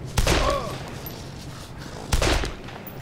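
Two bursts of gunfire from the zombie survival game DayZ, each a sharp, loud crack with a short rumbling tail, about two seconds apart against quiet ambience.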